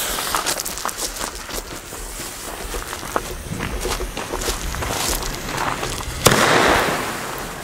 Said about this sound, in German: Fangen wir mit dem Blinkfeuertopf von Röder an.